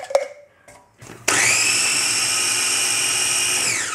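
A food processor chops cabbage for homemade sauerkraut: after a few handling knocks, the motor starts abruptly into a loud, steady high whirr, then winds down near the end.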